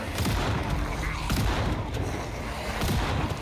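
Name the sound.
shotgun firing at zombies in video game Project Zomboid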